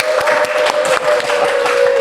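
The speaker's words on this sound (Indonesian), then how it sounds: "Boleh minta tepuk tangannya Sobat Laku?" A short applause sound effect plays on a podcast: a dense, continuous patter of many hands clapping, loud and close, with a faint steady tone running beneath.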